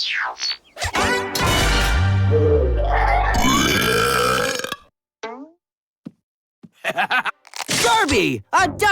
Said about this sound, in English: Is it normal to burp this much?